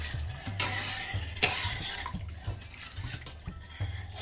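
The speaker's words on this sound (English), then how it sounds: "I'm just going to give it a bit of a stir." Chicken and sweetcorn soup ingredients being stirred in a pot give soft, wet sloshing and swirling with a few light knocks, repeated in steady strokes, close and fairly quiet with no talking.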